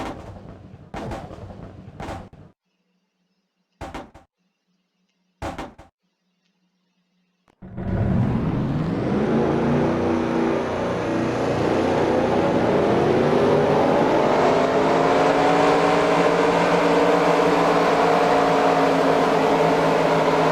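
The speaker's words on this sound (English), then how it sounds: "Drivers, start your engines." Race car engines crank and fire up at a racing season finale after a few brief sounds, then settle into a loud, sustained roar of several motors revving together.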